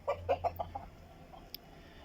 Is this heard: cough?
no